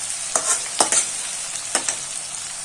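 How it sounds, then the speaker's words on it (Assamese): Ginger-garlic paste sizzles in hot oil while a spoon scrapes and stirs the pan a few times, sharp clinks standing out over the steady frying hiss. "অলপ ভাজি লম।"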